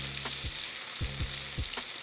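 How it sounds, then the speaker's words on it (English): Thick lamb chops pan-frying sizzle steadily and loudly up close, with a few soft knocks and scrapes as they are moved in the pan. "with thicker lamb chops like this, you want to flip them every couple minutes just to make sure they're cooking evenly"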